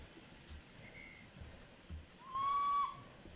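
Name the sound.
steam locomotive whistle in a video game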